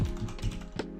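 Typing on a computer keyboard while coding in Unity, a brief flurry of close, soft clicks and taps ending in one sharper keystroke, with no voice.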